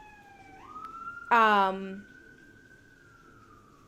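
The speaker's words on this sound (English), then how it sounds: "I don't know if you can hear the sirens going off in the background right now" An emergency vehicle siren wails steadily in the distance, a faint sliding tone running under the whole stretch, while someone briefly speaks over it.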